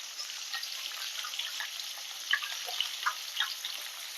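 Three medium potatoes, cut into long strips and seasoned with salt and turmeric, fry in a pan for a Bengali rohu fish curry with pumpkin stems, giving a soft, steady sizzle dotted with small crackles and pops.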